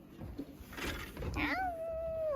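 A single cat meow with a rising then falling pitch, fairly close, after some soft rustling and shuffling, on a farm in Australia.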